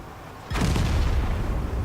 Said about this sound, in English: Artillery misses again, and that was the artillery's third shell.